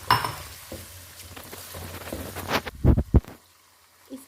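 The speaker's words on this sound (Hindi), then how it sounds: "जब इसका कलर बदल जाए तो हम इसमें अदरक लहसुन का पेस्ट डाल देंगे।" Ginger garlic paste sizzling in hot oil for achari chicken, a soft hiss rising into a few loud spattering crackles near the end before dying down.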